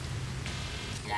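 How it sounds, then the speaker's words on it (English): Steady rain falls in the video game No Man's Sky, a soft, even wash of hiss heard alone for a brief moment. "It's raining."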